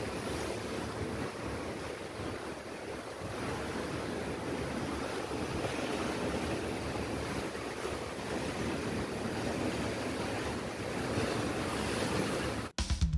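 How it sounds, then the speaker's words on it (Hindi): Steady sea surf washes past a cruise ship on a Mumbai to Goa voyage, heard from the open deck as a constant close roar of waves mixed with gusting wind buffeting the microphone, no voices. "जब तक आप इस समुद्र का नज़ारा लीजिए"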